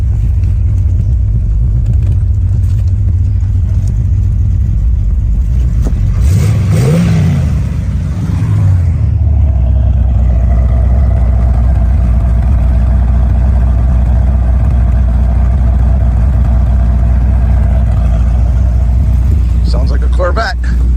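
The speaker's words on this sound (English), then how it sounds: "Sounds like a Corvette." Muscle car engine running steadily with a deep, loud rumble that swells into a brief rev midway, then settles back to a constant drone, sounding like a Corvette.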